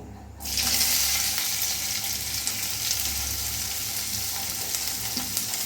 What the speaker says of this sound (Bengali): পেঁয়াজটা লাল লাল করে আমি ভেজে নেব